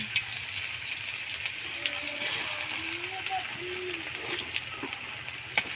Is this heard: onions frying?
yes